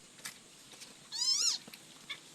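A single short cat meow, a pet cat among a household of cats and kittens, rises and falls once over roughly half a second against a quiet room, fairly close and distinct.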